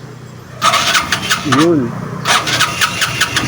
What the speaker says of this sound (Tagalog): gumagana na yung ating starter kasi pinipindot ito